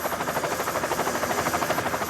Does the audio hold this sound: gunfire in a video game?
no